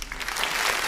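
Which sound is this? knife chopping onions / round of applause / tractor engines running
round of applause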